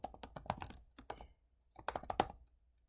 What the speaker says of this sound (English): Click on it, and I'm going to type,